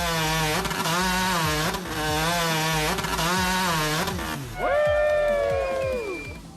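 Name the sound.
sawing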